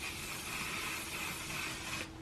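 A single continuous fine hiss of makeup setting spray on a face lasts about two seconds, close and fairly loud, then cuts off abruptly.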